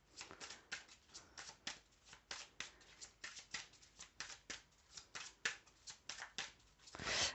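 Tarot-style cards are shuffled by hand in a long series of quick riffling bursts, close and soft, in an even rhythm with no speech.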